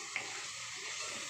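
A spice paste with a splash of water cooks in a pan for chicken curry, making a soft, steady sizzle with a faint scrape of stirring near the start, no voices.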